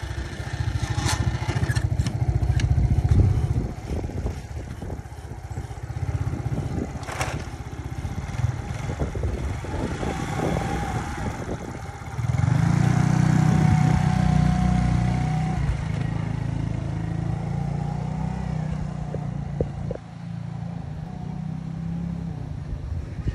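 A custom-built motorcycle engine runs close by with a loud, rough low rumble, briefly dropping before a strong rev swells back up and then settles into a steady idle.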